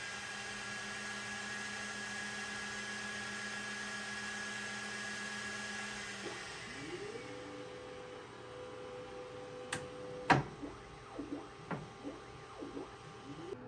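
A Creality K2 Plus 3D printer runs its input shaping calibration, starting as a steady fan-like whir, then shifting into sustained motor tones with short buzzing sweeps and a sharp clack near the end.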